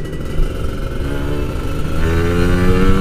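A 2011 Kawasaki Ninja RR Special Edition two-stroke motorcycle accelerating, a loud, close buzzing engine note that climbs steadily in pitch as it pulls, with no talk.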